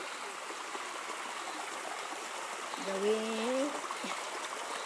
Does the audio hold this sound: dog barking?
no